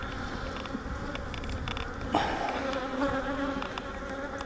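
Honeybees drone steadily from an open hive during an inspection, a dense close buzz that swells and thickens partway through as the colony stirs, with no talk over it.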